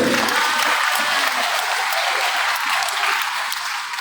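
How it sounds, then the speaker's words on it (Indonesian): Steady, dense applause from a sizable audience, sustained at an even level for the whole stretch with no voices standing out. "Kasih tepuk tangan untuk ketua kita."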